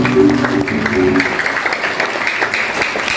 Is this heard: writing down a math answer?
no